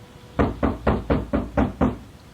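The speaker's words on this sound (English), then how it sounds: "Something's knocking on the door." Seven sharp knocks rap on a wooden door in an evenly spaced, steady rhythm, close and loud with nothing else around them.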